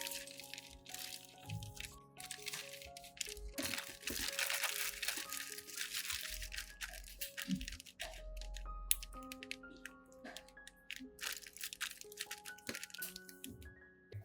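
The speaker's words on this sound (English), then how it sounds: "Prepare a zip bag, place the cut vegetables inside, and spread them out in a thin layer." Cut green onion and herbs being placed into a plastic zip bag and spread thin, with crinkling plastic and soft squishy rustles throughout, set under steady background music, close and moderately quiet.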